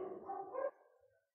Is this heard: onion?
no